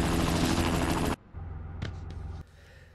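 A helicopter whirs loudly in the Spider-Man 2 video game, its rotor noise cutting out abruptly, followed by a quieter hum and a few brief sharp bursts.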